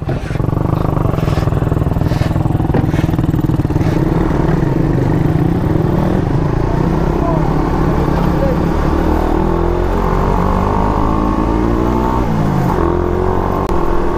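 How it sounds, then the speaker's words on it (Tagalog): A Suzuki Raider 150 fuel-injected motorcycle engine labors steadily and roughly on an uphill climb through Kaybiang Tunnel, with an uneven, sputtering drone throughout, loud and close. "Pumupugak yung motor niya sa akyatan."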